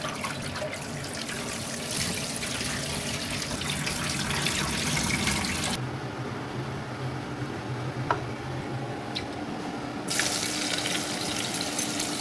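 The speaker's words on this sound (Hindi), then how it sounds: "पास्ता का जो थोड़ा बहुत पानी जो है हम साइड में निकाल के रख लेते हैं" Pasta cooking water being poured off, a steady gushing splash of water running continuously for several seconds, fairly quiet and close, with no talk.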